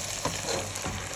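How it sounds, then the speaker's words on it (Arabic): Tomato paste drops into a pan of sizzling bell peppers for a spicy Libyan chicken pasta dish, giving a close, steady frying hiss with a few soft stirring bumps. "وهنزل بالصلصه بعد ما تاخد وش كده."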